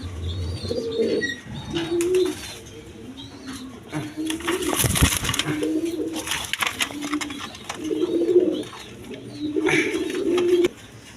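A pair of doves coo in soft, repeated low phrases, close and fairly steady across the stretch, with faint chirps and a brief flutter of wings in the middle.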